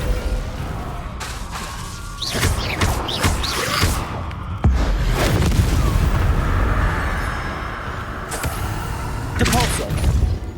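In Hogwarts Legacy, the Descendo spell slams enemies down with deep, booming thuds and crashing impacts, wrapped in loud rumbling combat noise and magical whooshes.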